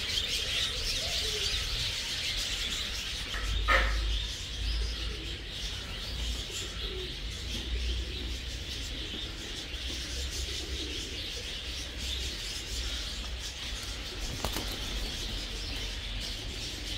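Pigeons coo softly at Belgrade Zoo under constant outdoor background noise, with brief bursts of wings flapping; the calls stay faint and distant throughout.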